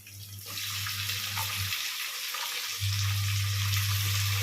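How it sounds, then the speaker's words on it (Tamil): Tomatoes dropped into a pan of sautéed onions for sambar produce a steady close sizzle that dips briefly mid-way, then returns louder and fuller, alongside a constant low hum. "இப்போ வந்து நம்ம தக்காளி போட்டுக்கலாம்."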